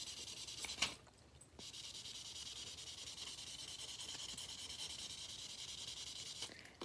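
A medium buffing block is rubbed back and forth over a small metal piece, a soft continuous close sanding hiss with brief pauses near the start, no talk heard.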